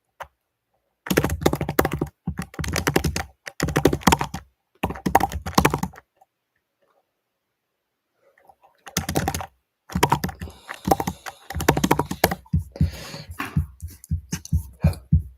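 Rapid typing on a computer keyboard in bursts of dense clicks, close and loud, with a few seconds of silence in the middle before the typing resumes.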